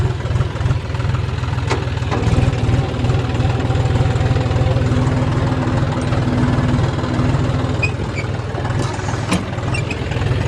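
A tractor pulling a rotavator runs in a field, a steady, throbbing low engine drone with a rattling mechanical knock, loud and close throughout without speech.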